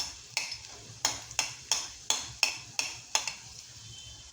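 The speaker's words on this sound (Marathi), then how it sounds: "आपण आता ह्याच्यामध्ये लसूण ॲड करूया." Garlic fries in about four spoons of oil in a kadai under a steady sizzle. A spatula scrapes and taps against the pan in a regular rhythm, roughly twice a second, sounding close and clear.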